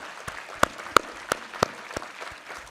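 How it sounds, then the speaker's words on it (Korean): Scattered, sparse clapping from a church congregation during a Sunday worship service, a handful of distinct sharp claps spaced irregularly over a low room murmur. "우리 하나님께 감사와 영광의 박수 올려드리겠습니다"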